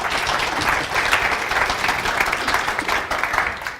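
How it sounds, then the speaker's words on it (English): A live audience gives sustained applause at a hypnosis seminar, dense and even clapping that fills the room throughout. "Give me a nice round of applause."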